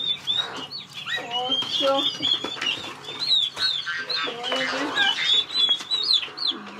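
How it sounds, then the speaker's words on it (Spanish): A rooster and hens cluck and call repeatedly, with scattered chirps layered over one another at close range, while a person counts aloud among them. "El gallo está bien contento, le anda bailando las gallinas"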